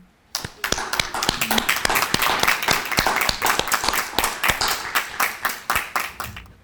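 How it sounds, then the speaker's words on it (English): An audience at a high school senior recognition ceremony applauds scholarship recipients: sustained clapping from many hands, bursting in loudly and running steadily before tapering off near the end. "Let's give these students a round of applause"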